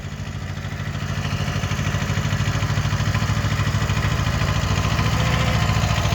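A Kubota tractor's diesel engine idles nearby with a steady, throbbing clatter that grows slightly louder and then holds even.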